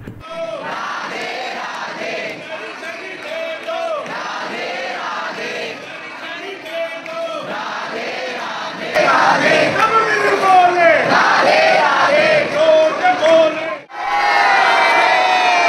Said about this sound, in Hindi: यहाँ पर आपको भक्तों की भीड़ और भक्तों का प्यार देखने को मिलेगा।